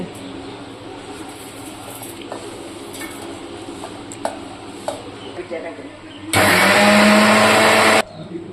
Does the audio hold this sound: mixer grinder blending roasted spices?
yes